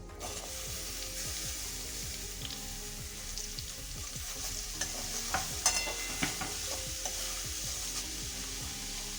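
Boiled chopped papaya frying in a pan with a pinch of asafoetida, a steady soft sizzle with irregular scraping stirs and clicks of a spatula against the pan, close and moderately quiet.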